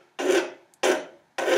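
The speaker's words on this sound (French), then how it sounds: "au niveau de la lime, toujours dans le même sens si possible" Three slow, rasping strokes of a metal file on wire, close and evenly spaced, each a harsh scrape followed by a short silence.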